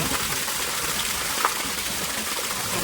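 Water gushes steadily from a pipeline into a tub, a constant near rushing hiss with one brief knock midway.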